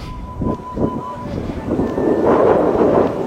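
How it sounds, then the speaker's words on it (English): Wind gusting outdoors and buffeting the microphone, a steady low rumble that swells and rolls on throughout. "You'll just hear some wind"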